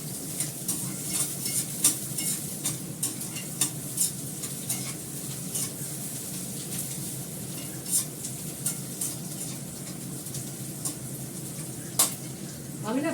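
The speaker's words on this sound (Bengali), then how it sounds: "মাংসটা সেদ্ধ করে হলুদ দিয়ে সেদ্ধ করেছি, নুন দিয়ে, ওটা সমেত ঢেলে দেবো এখন" Boiled mutton, cooked with turmeric and salt, goes into a hot pan with its liquid and sizzles steadily. Stirring scrapes and clinks run through it at an even pace, with no voices.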